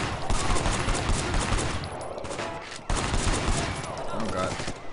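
Dense gunfire from an open-world crime action game set in Hong Kong, with steady bursts of automatic shots throughout, a brief dip near the middle, and faint talking underneath.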